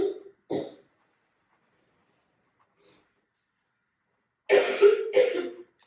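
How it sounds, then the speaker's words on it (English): Coughs in a household, heard in the background rather than up close: two short bursts at the start, then a pair of stronger, harsher coughs near the end, with silence in between. "we all still have a cough in our household."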